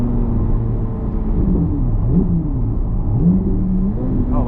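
A 2026 Chevrolet Corvette Z06 3LZ with a high-revving V8 rumbles steadily from the cabin while driving, its exhaust burbling and pitch rising and falling with low throttle, loud and continuous with no talking.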